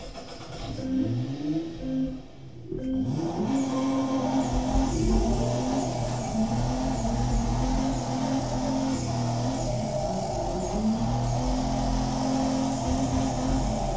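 Car engine revving steadily through a one-lap drift race on a dry track in a video game, the rising and falling pitch continuous and loud, with a brief dip early on before the engine roars back.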